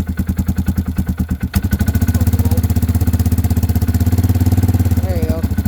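A Polaris Sportsman 500 ATV engine runs after a cold start in winter. It chugs unevenly for the first moments, then settles into a loud, steady, fast idle thump heard up close, with a brief voice near the end.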